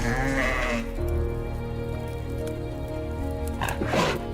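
Bighorn sheep bleat in a high mountain meadow, with several wavering calls at the start and end over a steady low background.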